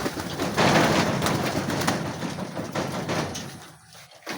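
Racing pigeons arrive at a loft during a training flight in San Joaquin, Iloilo, with soft cooing and wing flutters over a steady outdoor background, moderately close, and no speech.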